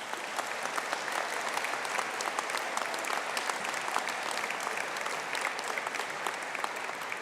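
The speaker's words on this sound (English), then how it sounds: "can I invite you to give them a special round of applause?" Sustained applause from an audience honouring graduates at a university conferring ceremony, an even patter of many hands clapping at moderate volume, somewhat distant.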